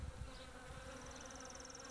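A bee swarm on a homestead buzzes in a dense, continuous drone, with a single insect's whine passing close over the steady, faint mass of wings.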